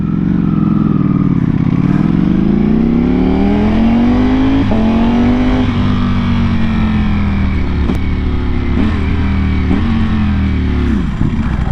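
A Ducati Panigale V4R motorcycle fitted with an Akrapovic exhaust is ridden hard on track, its engine note loud and continuous as it revs up and down through gear changes, with brief sharp blips near the end.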